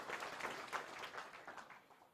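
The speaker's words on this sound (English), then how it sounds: "Let's all give him another round of applause." Audience applause following a Prime Minister's keynote address: a fairly quiet, steady wash of clapping from a crowd that holds briefly and then tapers off toward the end.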